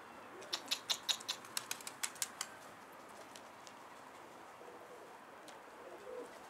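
Pigeons nearby: a quick run of sharp wing claps and flutters, then quieter outdoor background with faint stirrings.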